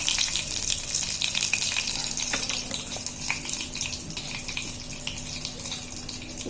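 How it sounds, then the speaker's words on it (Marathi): Cumin and mustard seeds crackle in hot oil for a chutney, a steady bright spitting sizzle with scattered sharp pops running throughout, close and moderately loud. "इकडे मी तेल गरम करायला ठेवले जिरं आणि मोरी तडतडली बघू शकता"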